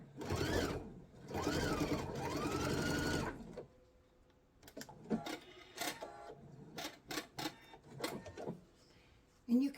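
A sewing machine stitching a quilt block with a 1/4 inch guide foot runs in a steady, fairly loud burst for about three seconds, then stops, followed by lighter clicks and handling noises.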